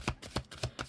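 Tarot cards shuffled by hand, a quick soft riffling in four or five short rhythmic bursts, quiet and close.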